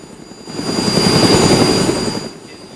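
Video game helicopter rotor and engine drone, rising to a loud sustained roar with dense low thumping, then easing off near the end; no talk over it.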